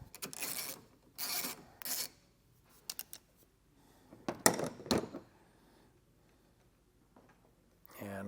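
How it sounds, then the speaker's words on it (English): A wrench loosens a car battery post terminal in several short raspy ratcheting bursts, separated by quiet gaps, with a louder metallic clatter near the end. "Now we'll just get our battery post undone here. Go ahead and get it broke loose."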